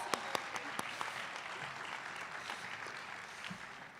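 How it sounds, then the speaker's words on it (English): Moderate applause from an award ceremony audience for family and friends, several sharp nearby claps over a softer, thinning bed of clapping that tapers off. "Round of applause."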